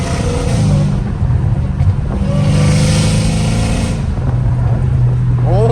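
A straight-piped Dodge Hellcat Redeye engine rumbles loudly while driving, with revs rising and falling and a few crackling exhaust pops, heard from close by inside the car.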